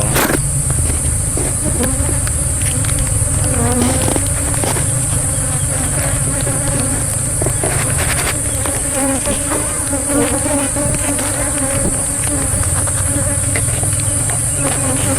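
Dense, continuous buzzing of a honeybee colony at a managed hive, a young colony newly formed after harvest; steady and loud throughout with individual bees droning close by, no talking.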